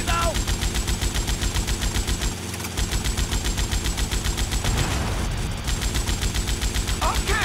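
Helicopter-mounted gun in the Vice City video game firing long rapid bursts with a steady rattling rhythm, loud and close, over engine and rotor noise, with a brief pause midway.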